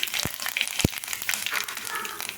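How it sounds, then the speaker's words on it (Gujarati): Sesame seeds, asafoetida and curry leaves crackling in hot oil for a tempering: dense steady sizzle with spitting pops and a couple of sharper knocks, fairly close and unaccompanied by clear talk. "તલ થોડા વધારે એડ કરવાના છે એવું સરસ લાગતા હોય છે હિંગ એડ કરી દઈશું મીઠું લીમડું એડ કરી દઈશું"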